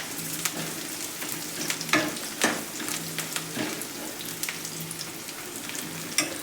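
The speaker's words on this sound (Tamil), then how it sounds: "வெங்காயம் நல்லா வதங்கிட்டு இருக்கு" Onions sauté in a pan with a soft, steady sizzle, broken by intermittent scraping and clicking as a spoon stirs them, close and fairly quiet.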